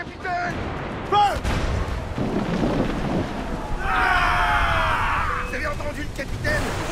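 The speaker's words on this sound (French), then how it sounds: "Une grosse tempête, capitaine!" Storm at sea in Assassin's Creed Black Flag, heavy rain and rumbling thunder with a booming crash, under shouted voices of a ship's crew.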